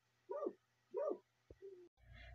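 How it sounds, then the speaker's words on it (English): A dog barks twice in quick succession, fairly close, followed by a short yip and a brief whine against quiet room noise. "Sorry for the barking dog,"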